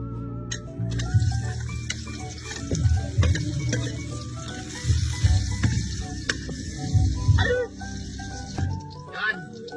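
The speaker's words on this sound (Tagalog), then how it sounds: "Lagyan na natin na ng sibuyas, tapos bawang!" Onion and garlic sizzle steadily in a hot pan, with intermittent stirring and scraping over the continuous frying hiss while people talk nearby.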